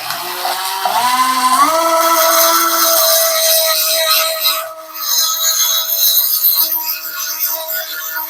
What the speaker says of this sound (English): we're going to try smoothing it with a rock first